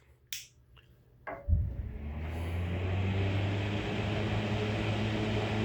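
A couple of sharp clicks, then a homemade woodworking dust collector fan spins up into a steady, close whooshing roar that holds to the end.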